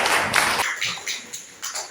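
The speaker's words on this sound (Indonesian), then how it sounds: "Tepuk tangan buat Mbak Tasudin." A small group claps briefly in an Indonesian classroom during a Quran and Hadith lesson, a short burst of close hand claps that tapers into a few scattered taps.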